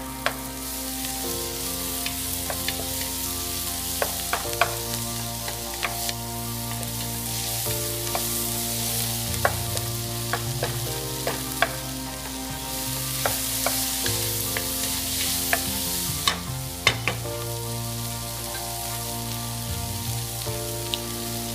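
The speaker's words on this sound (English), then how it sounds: "add 1 chopped big tomato and cook until wilted" Chopped big tomato fries in oil for a mutton curry, a steady close sizzle crackling throughout while a spoon stirs and scrapes the pan at intervals, producing occasional sharp clinks over the constant hiss.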